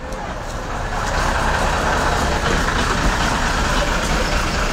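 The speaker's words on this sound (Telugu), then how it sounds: "తెనాలి ఇప్పుడు బస్సు బయలుదేరింది తెనాలి బస్ స్టాండ్లో బయలుదేరిందిగా" A bus engine idles with a heavy, steady rumble at the Tenali bus stand, broadband road noise and station hubbub surrounding it as the engine note rises slightly near departure.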